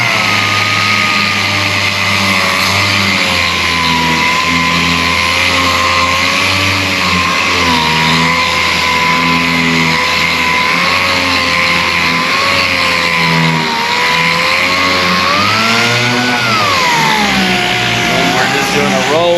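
A dual-action (DA) sander runs continuously over a fiberglass part, giving a steady close-up whirring drone whose pitch dips and rises as pressure and angle change, with a faint hiss of abrasive on the surface.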